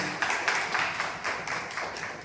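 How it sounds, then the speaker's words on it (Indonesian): An audience in a training session breaks into applause, a dense wash of clapping hands that swells and pulses steadily for a couple of seconds without any voices on top. "beri tepuk tangan teman-teman kita semua"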